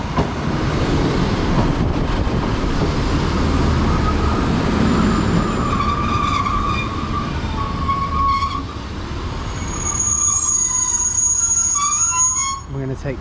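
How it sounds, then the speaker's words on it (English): A London Northwestern Railway class 150 diesel unit, 150139, rolls into a station with a loud, steady rumble and rising squeals of brakes and wheels, a voice talking over it as it slows. "arriving in now is the 1418 London North Western Railway service from Bedford to Bletchley"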